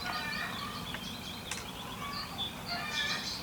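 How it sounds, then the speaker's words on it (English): Farmyard fowl calling, a rooster among upset hens and chickens, with short repeated cries over steady outdoor background noise, moderately near and continuous with no talking. "you could probably hear the rooster going on."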